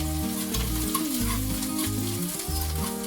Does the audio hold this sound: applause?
no